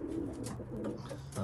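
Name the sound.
racing pigeon cocks cooing in loft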